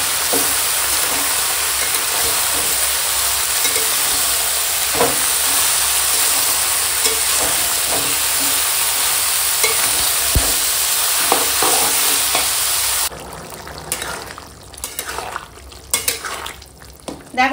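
Young bottle gourd with shelled peas, chili powder, turmeric and salt cooks in a pan, sending out a loud, steady sizzle with occasional stirring scrapes. The sound quiets into sparser crackles near the end.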